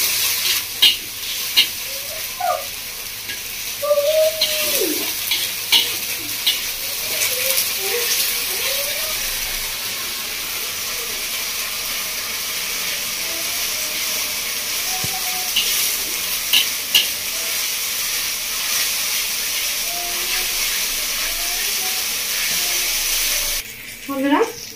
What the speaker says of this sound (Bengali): আদা রসুন বাটা দিয়ে ভালো করে কষিয়ে নেবো।